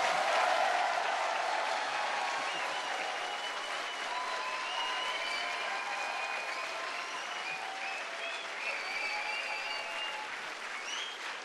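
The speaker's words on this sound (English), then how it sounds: "give a really big round of applause, if you will, for all those who've supported you" New graduates at a university graduation ceremony give a long, dense round of applause, a large hall full of steady clapping that fades slightly but carries on throughout with no talk.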